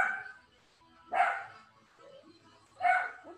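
A dog barks from inside its cage, two separate sharp barks about a second and a half apart, moderately close, with quieter room noise in between.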